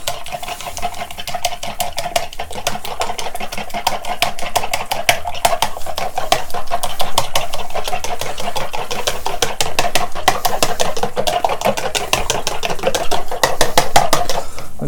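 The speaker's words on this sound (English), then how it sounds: "So we're just going to mix up our eggs together." Eggs whisked briskly with a fork in a bowl, a fast continuous rhythmic clatter of metal tines against the dish, loud and close, for a cheese and caramelised onion mini quiche.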